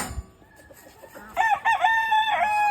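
A gamefowl rooster crows in the yard, a loud drawn-out cock-a-doodle-doo that starts midway after quieter clucking and barnyard background.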